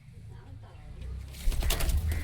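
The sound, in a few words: pigeons cooing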